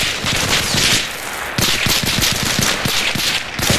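Rapid bursts of gunfire laying down covering fire during a military field training exercise, loud and close, with sustained automatic volleys continuing throughout and no talk.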